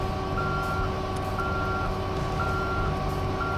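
Truck reversing alarm in a video game, beeping steadily in a regular on-off pattern over a constant engine drone while the vehicle drives backwards.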